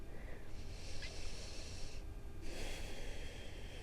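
Steady breath sounds during yoga hip circles, soft airy inhales and exhales rising and falling close by over a low background hum, with no talking.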